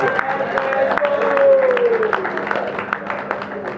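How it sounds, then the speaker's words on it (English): An audience at a reunion general meeting gives a short burst of applause that lasts several seconds. A voice speaks over the clapping and a faint tone rises and falls beneath it. "let's give him a round of applause"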